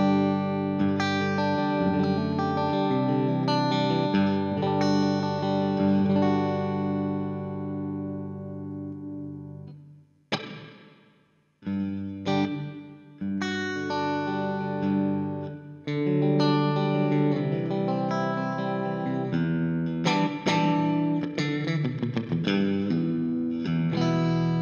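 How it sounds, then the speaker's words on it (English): Electric guitar played through heavy distortion with delay echoes trailing each chord, sustained riffs broken by a brief pause midway, loud and continuous. "we'll try out the distortion section and set a delay to that as well"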